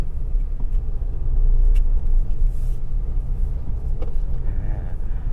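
A Mitsubishi Triton 4-door 2.4 Plus Ultra pickup drives on a dusty dirt road, heard from inside as a loud, continuous low rumble of engine and tyres with occasional knocks and rattles.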